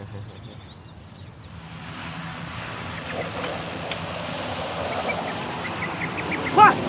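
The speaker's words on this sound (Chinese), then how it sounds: "飞机又来了" Japanese military aircraft approaching in a war film, a broad engine drone rising out of quiet and growing steadily louder, with a sharp brief burst just before the end.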